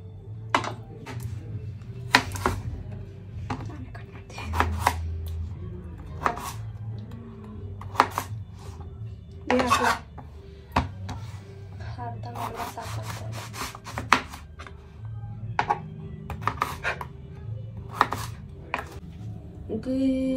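A knife chops through potatoes on a cutting board at close range, giving a run of sharp, irregular knocks with some scraping in between and no voices over it.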